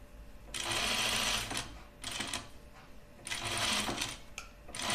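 Sewing machine stitching a Kielo wrap dress, running in three bursts of fast, steady whirring and clatter separated by short pauses, close up and alone with no voices.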